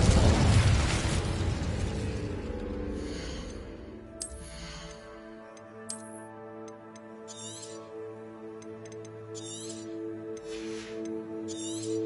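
Incendio fire spell cast in Hogwarts Legacy: a loud fiery burst that decays over a few seconds into sustained tonal hum, followed by a series of short bright magical pings and chimes at regular intervals.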